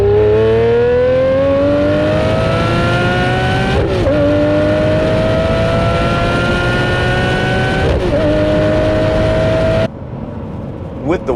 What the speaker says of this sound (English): you could just be cruising along here and punch it and the rear tires